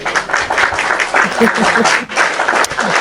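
Audience applause breaks out at an Indonesian talk show after a question, a dense steady clapping that holds for about three seconds, with voices mixed in.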